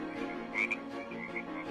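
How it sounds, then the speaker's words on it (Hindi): Frogs croak from a pond behind a house, a steady chorus of repeated calls at moderate distance, with a few sharper, louder croaks standing out over a continuous low hum. "मुझे काफी देर से मेंढकों की आवाज आ रही है जी,"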